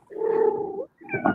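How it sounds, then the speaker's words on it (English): A cat gives a sustained, close vocal call with a rough, purr-like tone, followed after a brief pause by a shorter, rising meow. "He's purring and meowing."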